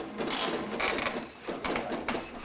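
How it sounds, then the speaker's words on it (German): Braille printer embossing Braille text in a school setting, a quick run of mechanical impact bursts and rattling strokes, close and fairly quiet, with no voices. "Und dann haben wir drüben einen Braille-Drucker, mit dem können wir das dann für ihn in Punktschrift ausdrucken."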